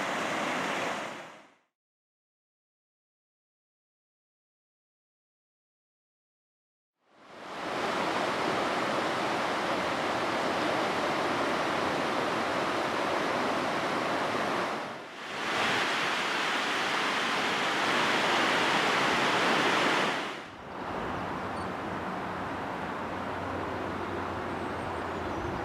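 River water rushing through woodland beside an abandoned cyanide factory, a broad steady hiss of flow that cuts in after a stretch of silence and continues loud and constant with a couple of brief dips.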